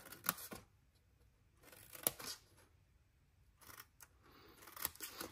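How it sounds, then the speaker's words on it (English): Scissors trimming score lines on a paper treat box, heard as a few quiet, separate snips with pauses between them in a quiet room. "And then we're just gonna trim these score lines on either side."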